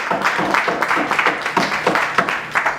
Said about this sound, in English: I expect you to lead that applause there